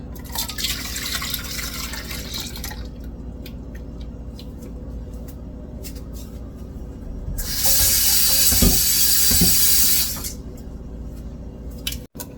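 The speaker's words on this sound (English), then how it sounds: "this is the milk. I'm going to pour it in here." Milk is poured into a container, giving a steady hissing pour of a few seconds, with handling clatter and small knocks before and after.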